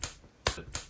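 Three crisp finger snaps ring out close by in a quiet indoor space, spaced unevenly, each a sharp, dry click with a brief decay.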